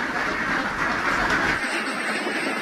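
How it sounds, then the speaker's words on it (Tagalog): A large flock of farm ducks quacks at feeding time, a dense, loud, continuous chorus of overlapping calls filling the whole stretch with no talking. "Meron po tayo ditong 241 heads na itik na nangingitog na."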